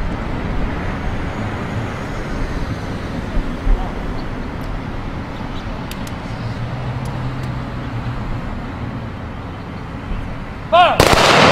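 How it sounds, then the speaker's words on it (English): A police honor guard's rifle salute at an outdoor ceremony: a single loud, sharp rifle crack bursts out near the end after a long stretch of steady traffic and ambient noise. "Rifle salute by our police honor guard."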